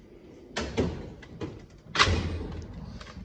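Drawers of a 68-inch Snap-on tool box sliding and thudding, with several metallic clunks and rattles in two clusters, fairly close and otherwise quiet.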